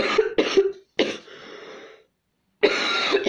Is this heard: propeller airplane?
no